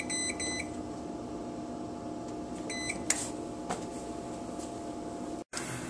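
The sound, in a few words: oven running while baking a PS3 circuit board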